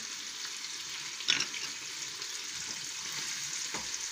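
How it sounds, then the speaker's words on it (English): Lemons, spring onions and garlic fry together in a pan with a steady, close hiss of sizzling, plus a brief stir or clatter early on and another soft disturbance near the end. "I'm going to throw in my lemons, my spring onions, and my garlic all together"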